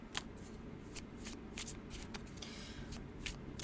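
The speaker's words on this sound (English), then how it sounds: "there's always ways to shuffle your deck" A tarot card deck is shuffled by hand in several quick riffling bursts, close and crisp, with no talking.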